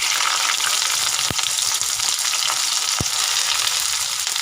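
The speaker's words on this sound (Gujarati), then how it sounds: "પછી આ 2 લીલા મરચાં નાખી દઈશું. આ કાંદા નાખી દઈશું બધા." Green chillies and onions fry in a pan for a dish of makke ki roti and sarson ka saag, giving a loud, continuous close-up sizzle with a couple of brief sharp crackles and no voices.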